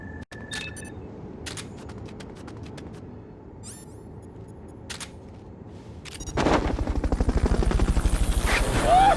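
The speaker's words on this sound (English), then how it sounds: "Fulton recovery helicopter is complete." Quiet ambience with a few sharp clicks, then a Metal Gear video game Fulton recovery helicopter's rhythmic rotor thumping swells in loudly over the last few seconds.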